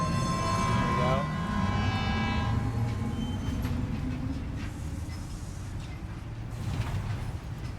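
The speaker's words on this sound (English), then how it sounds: "Damn, the monorail is good." A monorail in the video game Death Stranding 2 rolls along with a loud rumbling, mechanical whine and a rising horn-like tone early on. Someone talks over it.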